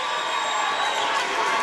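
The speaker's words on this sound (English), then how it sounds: "Big shot, brings the crowd to their feet." Basketball crowd at a girls' high school game cheering after a big shot, a steady, loud wash of voices and shouts with no single standout call.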